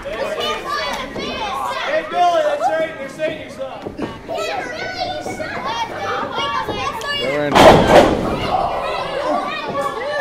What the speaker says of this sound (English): just slamming Harley T. Morris, tossing him right across the ring